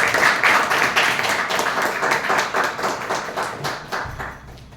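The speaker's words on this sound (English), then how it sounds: "Thunderous applause again," Close, rhythmic clapping from a small audience at a Toastmasters meeting, individual claps clearly distinct and steadily fading in strength over a few seconds.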